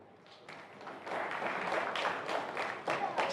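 A convention audience of bank employees claps in a hall, starting thin and swelling into full, sustained applause with scattered individual claps standing out.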